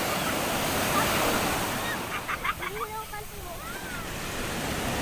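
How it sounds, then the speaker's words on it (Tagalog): Sea waves wash steadily onto a beach in Kasuna, Bicol, a continuous surf hiss with wind, while voices call out briefly in the middle. "Ito na ang dagat."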